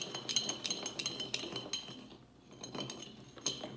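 Ice cube and spoon clinking against a cocktail glass while stirring sugar for an Old Fashioned, with a steady run of light, close metallic and glassy chinks that pause briefly midway before resuming.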